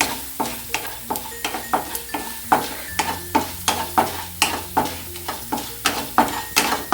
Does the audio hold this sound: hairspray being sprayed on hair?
no